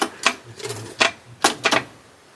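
Typing on a typewriter with a non-QWERTY keyboard, a sparse run of about six sharp mechanical key strikes in uneven rhythm, close and clear, with a faint low hum between hits.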